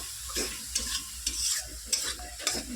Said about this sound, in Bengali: আমার মশলাটা কষা কষা হয়ে গেছে দেখতেই পাচ্ছ তোমরা